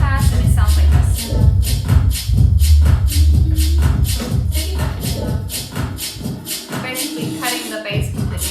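Dance music played through a DJ controller with a low-pass filter engaged, the beat running steadily before the bass end drops away near the end, leaving thinner, muffled sound.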